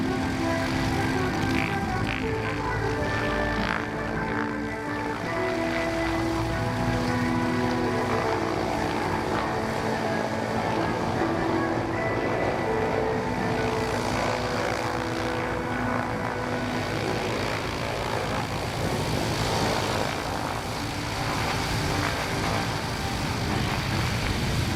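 Beech C-45 twin-engine airplane taxiing at an airshow in Rochester, New York, a loud continuous radial-engine drone with throbbing propeller roar, close by throughout the stretch.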